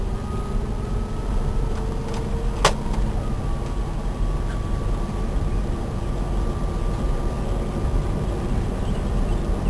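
An electric car on a test drive, with steady road and motor hum throughout, a faint tonal whine and one brief sharp click partway through, heard from inside the car.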